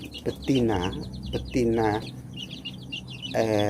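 KUB chickens, a cross between native hens and Bangkok roosters, give several drawn-out, throaty clucks close by, spaced apart with quieter clucking and chirps between them.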